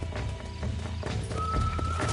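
A horse in a cowboy game clip-clops along at a walk, with faint whinny-like tones over a steady outdoor rumble and no clear talk.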